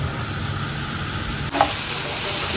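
Sliced onion softening in a pan with a steady, close sizzle and stirring throughout, which grows a little brighter and louder about halfway through; nobody speaks.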